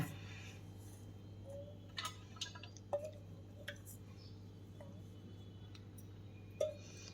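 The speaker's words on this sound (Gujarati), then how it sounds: "તો હવે આપણે એક આ કાણાવાળા છીબામાં બધા જ લઈ લઈએ, જેથી કરીને વધારાનું પાણી બધું જ નીકળી જાય." Boiled peanuts sit draining in a perforated colander, excess water falling in sparse, faint, irregular drips over a low steady hum in a quiet kitchen.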